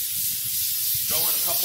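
Aerosol spray misted onto Christmas tree branches, the same kind of product used on house windows, gives a steady close hiss throughout, with someone talking over it in the second half.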